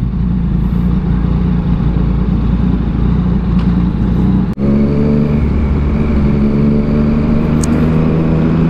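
A car driving through the SLEX toll gate onto the highway gives a steady, loud engine and road drone from inside the vehicle, unbroken apart from one brief dropout midway, with no one speaking.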